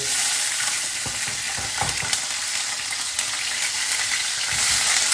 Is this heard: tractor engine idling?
no